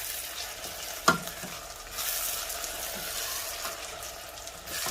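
Onions frying in a pan on medium-high heat sizzle steadily while being stirred, a single sharp clack of the utensil early on, then continuous close frying hiss.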